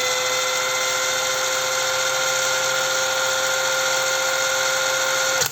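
A SHIDOKU SHG1 1200 Nm cordless impact wrench spins freely at its first speed setting, a steady, close motor whine that holds evenly until it cuts off at the very end.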